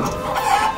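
Laying hens cluck at a layer poultry farm holding about 23,000 birds, a brief, dense flock murmur with no speech over it.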